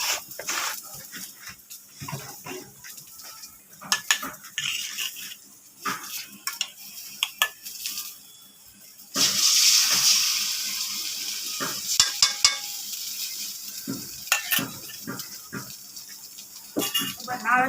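Egg dropped into hot oil in a pan while cooking homemade noodles sets off a sudden loud sizzle midway, which keeps crackling under stirring and utensil clinks after quieter scraping and taps.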